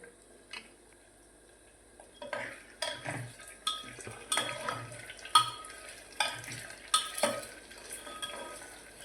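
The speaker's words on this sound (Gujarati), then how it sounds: "થોડી વાર હલાવતા રહો." A spoon stirs potato peel curry in a pan, giving irregular scraping clinks and soft sizzling, with some louder knocks against the metal.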